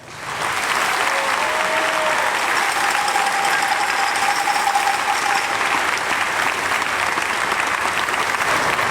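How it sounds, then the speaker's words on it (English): Sustained applause from the audience at an infantry graduation ceremony at Fort Benning, a broad, steady roar of many hands clapping that continues unbroken for several seconds, with faint crowd noise beneath. "please join us in giving these fine soldiers a round of applause"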